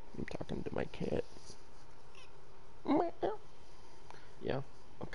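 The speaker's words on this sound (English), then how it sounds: "I'm talking to my cat." A domestic cat meows a few times, close by, with short rising calls spaced apart while someone talks in between.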